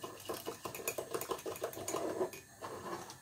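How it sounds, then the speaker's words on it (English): A small whisk beats sugar in a bowl with rapid, rhythmic clicking and scraping strokes, quiet and close. "give that a whisk."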